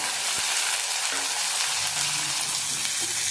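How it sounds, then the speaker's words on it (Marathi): Onion and tomato frying in a pan for dry prawn masala, giving a steady, even sizzle that fills the whole clip, close by, with a few faint stirring knocks beneath it. "कांदा भाजून झाला आहे आपण टॅमॅटो टाकून भाजून घेऊया"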